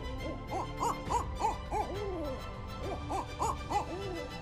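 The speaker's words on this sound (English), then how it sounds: "The silent apex predator in the sky is the barred owl." A barred owl calls a rhythmic series of clear hoots in two bursts, the rounded notes rising and falling, with a brief lull between the groups and nothing else in the background.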